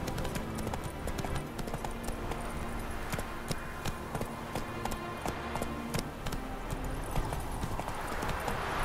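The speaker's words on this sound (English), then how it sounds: "Run, Roach." Horse galloping in The Witcher 3 video game, rapid hoof clip-clop beating steadily over dense game music and ambience for the whole stretch.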